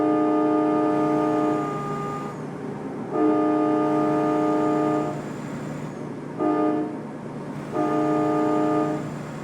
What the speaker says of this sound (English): it almost sounds like an Amtrak horn.